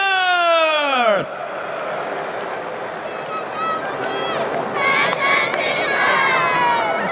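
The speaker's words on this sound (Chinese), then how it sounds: "再次用最热情的掌声鼓励" A stadium crowd at the 2024 Taiwan Series Game 1 baseball pregame show applauds and cheers after a cheerleader dance, opening with a falling tonal sweep, then a sustained roar of clapping and voices.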